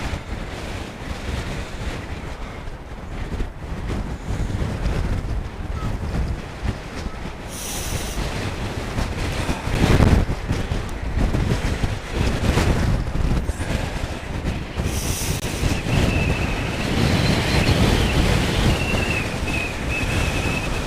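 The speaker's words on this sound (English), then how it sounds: "So a little bit windy here by the sea." Strong wind gusting by the sea in Reykjavik in winter, a loud continuous roar buffeting the microphone, with surging rumbles and no voices.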